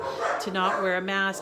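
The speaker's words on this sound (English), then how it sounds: "there goes the dogs" A dog barks a couple of times and yips close by, heard under a person talking over it.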